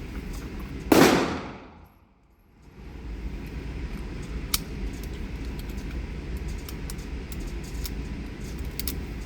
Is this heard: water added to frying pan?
no